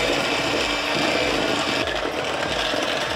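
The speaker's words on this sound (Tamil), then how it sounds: "இது சேர்த்துட்டு லைட்டாக ஒரு 1 or 2 ஸ்பீடில் வச்சு நீங்கள் மைல்டாக கம்பைன் பண்ணிக்கோங்க" An electric mixer runs on low speed, gently combining eggless chocolate chip cookie dough with vanilla essence, giving a steady, close, unbroken whir from start to finish with no voices.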